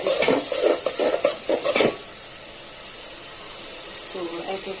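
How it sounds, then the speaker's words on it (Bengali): Ginger and garlic stirred in a frying pan for a goat trotter curry: close, rhythmic scraping strokes for about two seconds, then a quieter steady sizzle. "তো আমি 2 চামচ আদা দিয়ে দিলাম, 1 চামচ রসুন দিয়ে দিলাম, দিয়ে নেড়ে চেড়ে দিচ্ছি"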